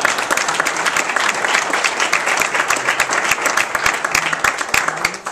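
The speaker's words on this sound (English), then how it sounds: "So I want to give a special round of applause." Audience at a sponsor reception applauds, a dense, steady round of clapping from many hands that fills the room without pause.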